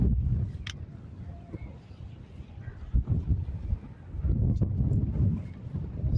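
Gusty wind buffets the microphone in low rumbling bursts beside a Zontes ZT200-C motorcycle, with a few sharp knocks and faint voices in the background.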